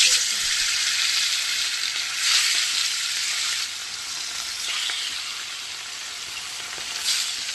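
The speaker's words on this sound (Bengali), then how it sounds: "মাছটা লাল করে ভেজে নিই" Fish sizzles steadily in smoking-hot oil, a dense, continuous frying hiss that stays loud and close throughout, with a slight dip partway and brief flare-ups of crackle.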